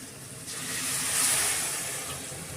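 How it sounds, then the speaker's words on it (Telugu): Water poured from a glass into a pan of simmering fish curry, a rushing, hissing splash that swells for about two seconds and then eases off, close and clear with no talking. "ఇప్పుడు వాటర్ పోసేసుకుందాం."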